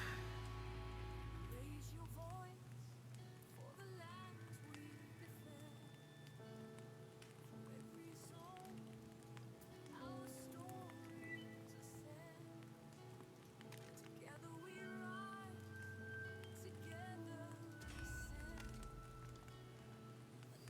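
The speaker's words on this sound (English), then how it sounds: "do you ever hear the rain hitting the roof?" Rain drumming on a building roof in the Pantheon game, a soft continuous patter of drops heard from inside, with faint game sounds and music tones underneath.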